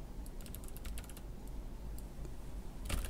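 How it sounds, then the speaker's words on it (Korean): Rapid, uneven keystrokes on a computer keyboard, clicking close and fairly quiet with short pauses between bursts and a louder flurry at the end. "제가 지금 키보드 열심히 누르고 있어요."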